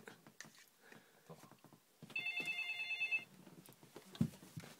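A telephone bell rings in one steady burst of about a second, moderately loud against a quiet room with scattered faint noises.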